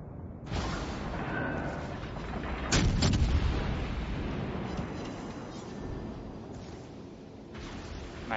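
Heavy naval guns fire in World of Warships Legends during a Baltimore cruiser battle against Bismarck battleships, with deep booming blasts and a rolling roar, one strong salvo near the middle and continuous loud battle noise.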